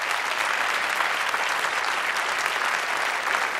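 Debate audience giving a round of applause, steady clapping from a full hall at moderate volume, continuous throughout with no voices.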